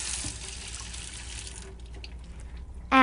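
Water pours from a sink tap during handwashing, a steady hiss that is shut off midway, leaving quiet room tone before a brief sound at the end.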